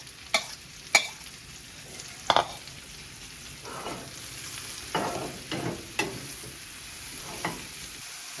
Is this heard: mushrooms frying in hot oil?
yes